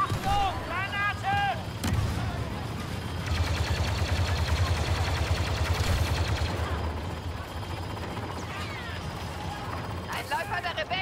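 A grenade blast and heavy gunfire ring out in Star Wars Battlefront 2 multiplayer on PC: sustained loud rumbling and rattling shots build mid-clip, with voices talking briefly at the start and end.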